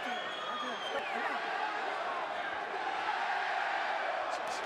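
Boxing crowd at a live fight roars and cheers in a dense, steady wash of noise from start to finish, with a commentator's voice running over it.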